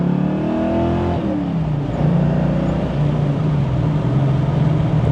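Foxbody Ford Mustang running cheap aftermarket fuel injectors, idling with a slight surge and then rising in a rev: a steady loud engine drone up close, no talk.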